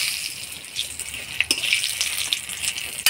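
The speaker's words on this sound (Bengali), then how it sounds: "ফোড়নে দিব শুকনা লঙ্কা, গোটা গরম মশলা, তেজপাতা, দারচিনি, এলাচ, লবঙ্গ" Whole dried red chillies, bay leaves, cinnamon, cardamom and cloves crackle and sizzle in hot oil for a Bengali tempering, a steady close frying hiss with a few sharp pops.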